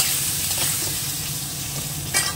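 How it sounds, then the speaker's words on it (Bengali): Potatoes frying in a pan with a pinch of turmeric powder, giving a loud, steady, dense sizzle that continues without a break and swells slightly near the end; no voices. "আলুটা ভাজতে দিয়ে দেবো, একটু হলুদ গুঁড়ো দিয়ে দেবো"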